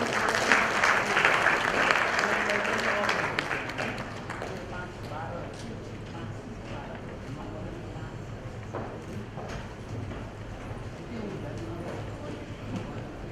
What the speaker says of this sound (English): Let's welcome them with a huge round of applause.